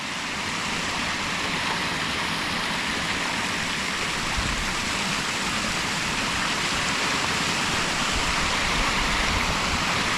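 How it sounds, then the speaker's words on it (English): A waterfall on farmland, heard from just above it, rushes in a loud, steady, unbroken roar of falling water with no voices. "Right, so here we are, just above the waterfall."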